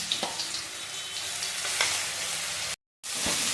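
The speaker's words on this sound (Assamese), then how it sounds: "শুকান জলকীয়া ভাজি হোৱাৰ পিছত পিঁয়াজ, আদা, নহৰু পেষ্টটো দিছোঁ।" Onion, ginger and garlic paste fries in hot oil with dried chillies for a mushroom masala curry, a steady bright sizzle with a soft tap or two, briefly cut by a short dropout near the end.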